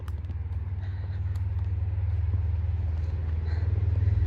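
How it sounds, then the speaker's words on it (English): Steady low rumble of cars on a nearby road, heard from a trail edge in Great Smoky Mountains National Park, continuous and moderately close with no talk. "now you can hear the cars again too"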